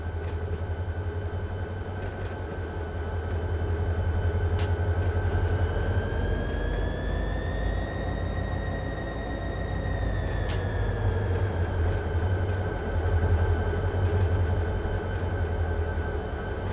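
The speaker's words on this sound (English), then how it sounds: "you can really hear those engines throbbing" Steady, heavy diesel throb from train engines in the Run 8 train simulator game, a low rumble with a sustained humming drone that rises slightly in pitch midway and then settles back.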